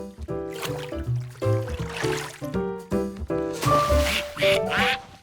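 Ducks quack loudly and close by, a rapid series of nasal calls overlapping one another with short pauses between bursts.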